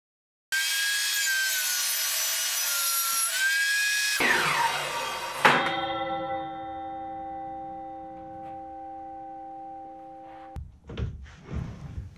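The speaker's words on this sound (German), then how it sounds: "Für den Rahmen musste ich einige Gehrungsschnitte machen. Das heißt, das Sägeblatt muss auf 45 Grad gekippt werden." A tilted saw blade making 45-degree miter cuts in wood for a cabinet frame, first a loud steady cutting whine, then a sharper cut and a long ringing tone as the blade spins down, with clatter at the end.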